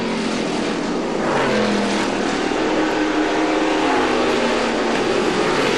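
A 1967 McLaren M6B vintage race car accelerates hard during a historic race, a loud, sustained engine roar rising in pitch, continuous and close.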